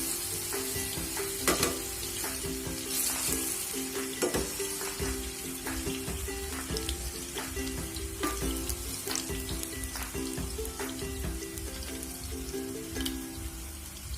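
Chocolate-cheese banana fritters fry in hot oil, a steady dense sizzle and crackle running throughout, with occasional louder pops and spatters, close and even in level.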